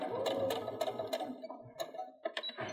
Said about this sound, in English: my needle should be starting off right at the bottom of that valley where those 2 points kind of are coming together. And I can just sew down.